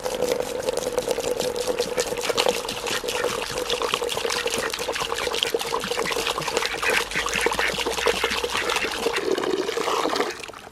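Fresh water pours steadily into a chicken waterer that already holds some rainwater, a continuous splashing stream running close and loud for about ten seconds with no talk.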